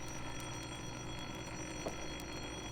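Telephone ringing as a sound effect in a 1943 radio drama, a faint continuous bell tone sitting in a steady hissy, humming old-recording background.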